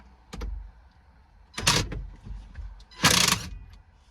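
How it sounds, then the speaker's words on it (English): A nut gun removes the steering wheel centre nut on a Mazda MX5 Miata, firing in three short whirring bursts, the last loudest and longest, with quiet gaps between them. "it's just a lot easier to just put a nut gun on it"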